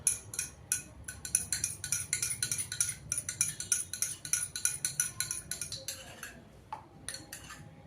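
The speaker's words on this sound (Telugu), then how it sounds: "మనం ఒక స్పూన్తో ఫస్ట్ మనం ఈ అదర్ బ్రాండ్ షాంపూని మిక్స్ చేయాలి" A spoon stirring shampoo in a small container makes rapid, rhythmic clinks and taps of metal against the vessel, close and fairly quiet, slowing toward the end.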